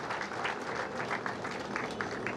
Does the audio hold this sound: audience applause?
yes